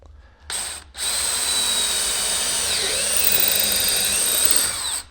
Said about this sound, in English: and drill my hole just like that.